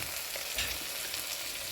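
Ingredients fry lightly in a pan for raw jackfruit sambar, a soft, quiet, continuous sizzle with no voices.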